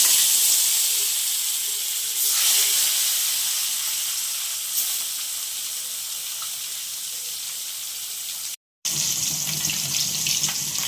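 Koi fish coated in spices hiss steadily in hot oil, a loud, even sizzle close by that runs almost unbroken apart from a brief cut near the end, with no voices.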